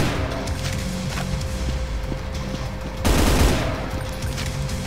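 Gunfire in the video game Brutal Doom, a dense steady stream of rapid shots with a louder burst of heavier blasts partway through, continuous and fairly close.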